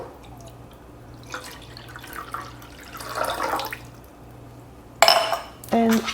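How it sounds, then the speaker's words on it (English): Water pours into the tank of an ultrasonic jewelry cleaner in a couple of splashy bursts, close by and fairly quiet, with a few short tonal sounds near the end. "Now I'm gonna add water in the tank."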